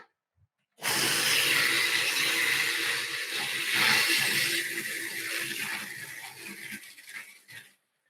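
A Robot Coupe food processor runs continuously for several seconds while pureeing food, giving a loud, close, steady hissing whir that swells slightly midway and then cuts off, with no voices.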